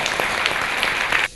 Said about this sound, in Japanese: 素晴らしい、拍手。